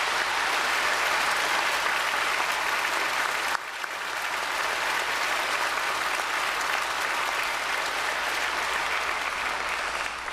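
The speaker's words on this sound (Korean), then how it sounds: "크게 박수로 축복하겠습니다." A church congregation applauds loudly and continuously, a dense, even roar of clapping that fills the whole stretch with only a brief dip partway through.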